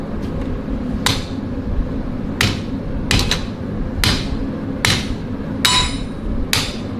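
Blacksmith's hammer striking metal, seven sharp ringing blows at uneven intervals, close and loud over a low steady forge hum.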